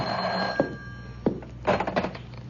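A telephone rings in a radio mystery drama, with a few sharp rings standing out over a quiet background, close and fairly loud and heard without talk.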